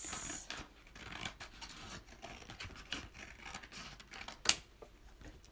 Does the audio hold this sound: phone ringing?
no